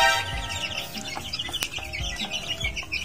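Mother hens cluck softly and irregularly while eating in their coop, a close, fairly faint scatter of short clucks and chirps with no talk over them.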